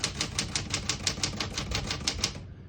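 Rapid, even keystrokes clatter on a 1964 Smith-Corona Galaxie portable typewriter, a steady close run of about a dozen crisp strikes with no talking, ending abruptly.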